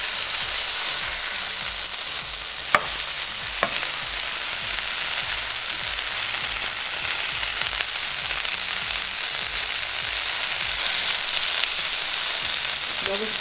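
Cheese crisps and sizzles steadily in a hot frying pan, a dense continuous frying hiss that holds for the whole stretch, with a couple of faint clicks from the pan and no talking.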